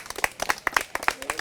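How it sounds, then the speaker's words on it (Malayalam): A short burst of clapping from a studio audience on a comedy game show, a handful of close, distinct claps in quick irregular succession. "കയ്യടി."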